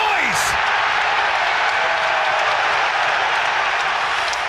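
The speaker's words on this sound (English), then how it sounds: "I like the way he said such noise and then just let the noise of the crowd go in." Football crowd at an Arsenal vs Liverpool match, a loud, sustained roar of a large stadium audience, steady and unbroken, with a brief whistle-like tone at the start.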